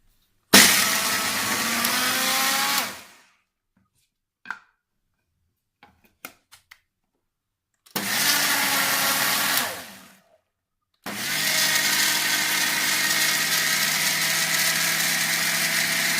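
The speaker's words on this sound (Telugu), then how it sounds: "ఈ పదార్థాలన్నీ కలిపి మిక్సీ వేసుకుందాం." Mixer grinder blending groundnut chutney ingredients with salt, cumin, coriander and a little water, running loud in three separate bursts of steady motor whine, with short gaps of silence and faint clicks of the lid between them.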